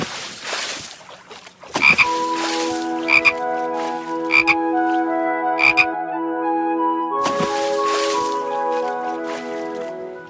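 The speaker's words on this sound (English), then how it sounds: "Jump, frog, jump." Cartoon frog croaks in a children's alphabet program, four sharp close croaks spaced about a second apart over sustained tonal backing, followed by a louder burst near the end.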